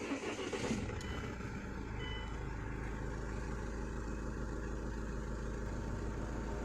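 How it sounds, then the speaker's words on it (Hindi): A Mahindra SUV500 engine starts with a brief crank and catches, then settles into a steady low idle rumble that carries on alone. "गाड़ी को स्टार्ट करते हैं।"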